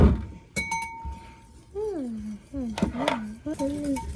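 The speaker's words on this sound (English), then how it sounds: "I already whisked the egg up. I want to whisk it." Egg being whisked in a bowl for a holiday recipe, with scattered metallic clinks of utensil against dish and a sliding, voice-like tonal sound over quiet background.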